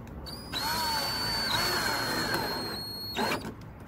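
A power drill whines steadily for about three seconds as it drives a screw into a furniture leg, loud and close, then stops with a short final burst.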